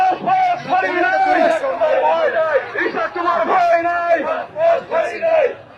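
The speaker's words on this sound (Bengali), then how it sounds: "তারা কিন্তু ইশরাক হোসেনের নাম নিয়ে কিন্তু স্লোগান দিচ্ছেন সবাই" A large crowd of supporters chants slogans for Ishraq Hossain at a blockade of Nagar Bhaban in Dhaka, loud, close rhythmic shouted phrases repeating in waves without a break.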